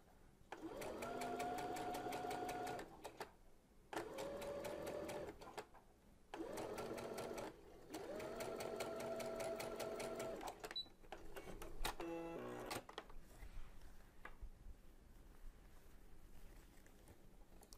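Sewing machine fitted with a gathering foot stitching and gathering fabric, loud rapid mechanical chatter in several bursts separated by short pauses, followed by quieter handling clicks and rustle.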